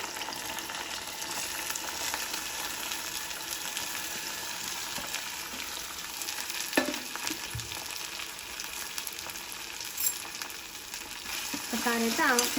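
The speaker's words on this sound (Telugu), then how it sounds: "బెండకాయ ముక్కలు వేసుకొని కలుపుకోవాలి" Chopped okra pieces sizzle steadily in a pan while being stirred, with a continuous close frying hiss and occasional scraping knocks, no voices.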